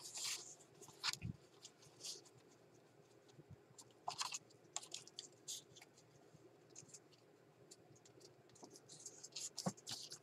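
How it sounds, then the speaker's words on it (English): Steel scissors snip through painted paper close by in a mixed-media journaling session, with short, irregular crisp cuts and rustling over a quiet background. "Use the scissors."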